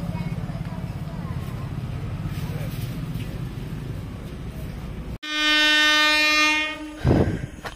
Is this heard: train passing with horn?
yes